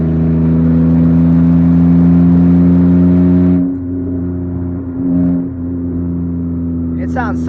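A muscle car with a bolt fallen out of its precats or J-pipe, leaving an exhaust leak, drones loudly and steadily up close. Its level drops partway through before a slight rise.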